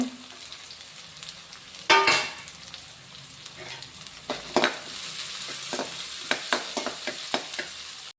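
Potato and carrot pieces for fried rice fry in a pan with a soft background sizzle, broken by a loud clatter early on and a series of short scraping taps from stirring.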